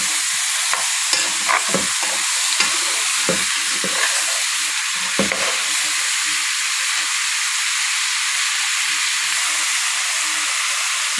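Chicken and onions sautéing in a hot pan give a loud, steady sizzle, with scraping stirs of a utensil in the first half and no talking.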